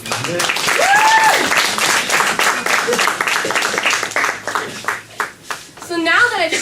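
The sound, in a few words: applause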